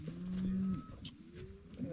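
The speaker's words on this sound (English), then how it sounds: "There's probably 350 cows and 300 calves or something like that." Cattle moo in a pasture holding a large herd of cows and calves, with one long, loud low moo near the start and fainter lowing afterward.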